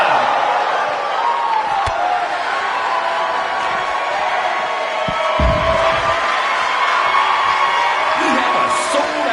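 A packed arena crowd in a wrestling video game roars and cheers steadily and loudly throughout, with whoops and yells rising over the sustained din and a few thuds underneath.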